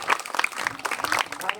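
A short burst of audience clapping at a village magic show, scattered and moderately loud, mixed with a voice talking over it.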